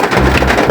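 Rain drumming on the roof of a Karimun Wagon R, heard from inside the car cabin, a dense, loud, continuous patter with no voices.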